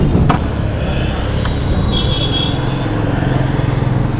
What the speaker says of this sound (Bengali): চলো বাইকে বসা যাক আর বাইক স্টার্ট করা যাক।